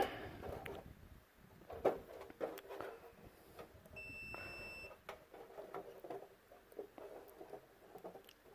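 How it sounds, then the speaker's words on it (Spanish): A multimeter on a continuity test gives a single steady electronic beep lasting about a second, faint amid quiet clicks and handling noise from the relay and probes of a Chevrolet Astra cooling fan circuit. "al colocar o al tocar yo ambas terminales, se debería de escuchar el bip"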